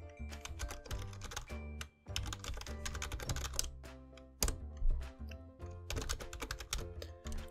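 Keywords are typed on a computer keyboard in quick bursts of crisp, close key clacks, separated by brief pauses, with no speech.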